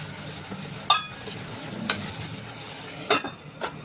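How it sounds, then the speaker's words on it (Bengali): Potatoes are stir-fried in spice masala in a pan: a soft, steady sizzle runs underneath while a spatula scrapes and stirs in a few sharp strokes. "এই আলুটা দিয়ে আবার মশলাটা খুব ভালো করে কষাবো"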